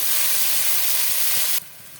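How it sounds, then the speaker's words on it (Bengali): Chopped onion hits hot oil seasoned with black cumin seeds in a pan where fish was just fried, giving a loud, steady broadband sizzle that drops abruptly to a quieter hiss near the end. "কালো জিরে দিয়ে দিলাম কেটে রাখা পেঁয়াজ"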